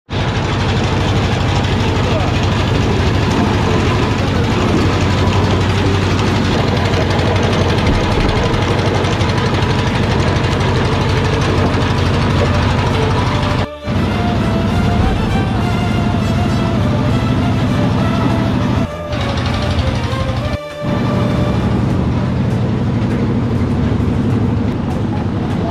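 A fishing boat engine idles steadily at a harbour with a continuous loud low rumble and knocking throb, heard close up with some voices in the background.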